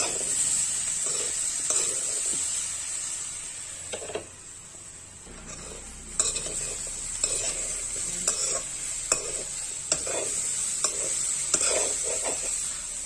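Ground onion fried with banana in a pan for a Chhattisgarh banana curry: a steady high sizzle runs throughout, with repeated close scraping stirs of a spatula against the pan.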